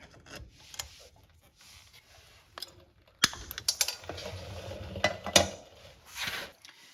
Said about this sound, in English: we're going to remove our carter pin and take off our axle nut